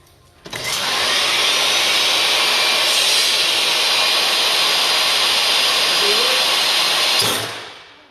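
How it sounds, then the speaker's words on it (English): A SawStop table saw runs at full speed with its blade up, a loud steady broadband whine and roar that starts abruptly, holds for about six seconds, then cuts off as the brake fires and the sound winds down. "at that feed rate with that blade up, the saw moving full speed"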